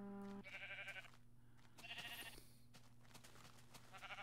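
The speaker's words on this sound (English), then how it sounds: "That's a dark gray sheep." Sheep in the Minecraft Beta 1.2 video game bleat three times in short, evenly spaced calls over a quiet background hum, with no talking.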